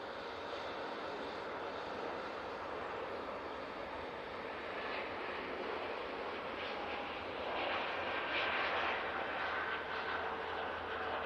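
An airliner in colourful petals livery rolls down the runway at Manchester Airport, a steady distant engine rumble and hiss that swells slightly toward the end, with no voice.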